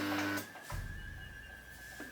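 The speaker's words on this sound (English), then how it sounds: "So let's try to sew on this fabric." A sewing machine runs on fabric with a steady, close mechanical whir that starts after a brief thump and continues evenly, with no talking.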